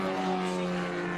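Number 50 MGB race car with a four-cylinder upright inline engine running at Watkins Glen, a steady sustained drone heard at moderate distance.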